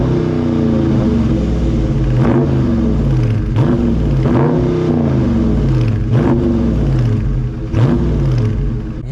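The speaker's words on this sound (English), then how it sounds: "I'm gonna give you some revs right now." A Dodge Charger Scat Pack Widebody with the 392 6.4-liter naturally aspirated V8 revs repeatedly up close, deep rumbling idle rising into several loud swelling blips and falling back each time, with no talking.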